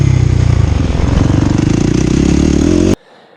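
A supermoto motorcycle engine runs loud and close with a steady rising rev, then cuts off abruptly, leaving near silence at the end.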